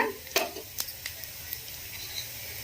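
Chana dal and urad dal fry in a pan for ginger pickle, soft sizzling under a few sharp clinks and scrapes of a spoon against the pan, fairly quiet and close.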